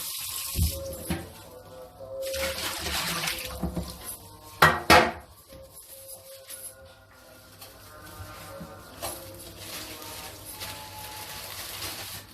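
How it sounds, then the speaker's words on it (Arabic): A soaked kitchen range hood filter is scrubbed under a running tap, with flowing water and splashing broken by metallic clatters and knocks against the sink. "نبدا بقى نغسل الشفاط."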